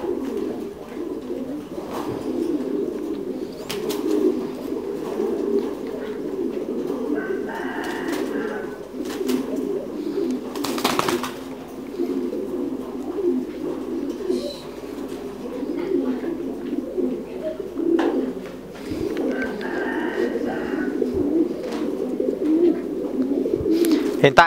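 Thai Titan meat pigeons coo continuously in a pigeon farm loft in Dak Lak, a low, layered murmur of many birds with occasional rustles and clicks.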